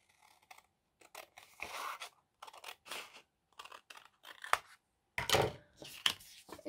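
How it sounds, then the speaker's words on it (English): Scissors snip across a thin paper book page, trimming the top off a folded corner bookmark: a string of quiet, close, irregular cuts and soft paper scrapes. "Then you're going to cut this top part off."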